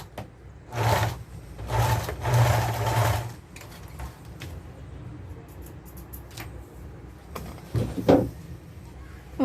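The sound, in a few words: sewing machine stitching a zipper fly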